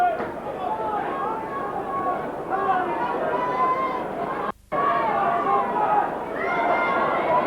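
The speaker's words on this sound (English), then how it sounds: "Quite a healthy crowd here." Spectators at a St Helens v Salford rugby league Lancashire Cup match at Knowsley Road fill the air with a steady, loud crowd murmur and chatter, one brief dropout partway through.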